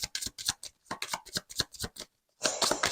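Playing cards are shuffled by hand for a random draw, a quick series of crisp riffling bursts with short pauses, close and alone, ending in a longer riffle.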